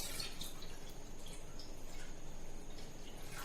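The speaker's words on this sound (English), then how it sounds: "So now I will pour the water in the container." Water poured from a jug into a container makes a continuous splashing, trickling wash with bright dripping accents, steady and close, with no voices.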